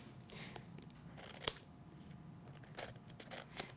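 Sharp scissors trim the edge off a sheet of gilded vellum paper at a craft table, giving a few quiet, crisp snips spread apart over a soft, hushed background.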